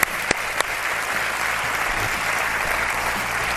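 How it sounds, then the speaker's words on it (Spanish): A theater audience in Murcia claps loudly and steadily at the close of a television program, dense continuous applause after two sharp opening claps, heard close and without speech. "Os pido un gran y fuerte aplauso para todos los que habéis estado aquí en este teatro"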